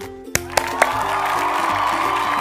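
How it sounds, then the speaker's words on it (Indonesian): Children at a church Sunday school clap their hands: a few sharp separate claps come first, then a continuous patter of clapping, close and fairly loud, over steady background music. "Wah, oke, pada tepuk tangan"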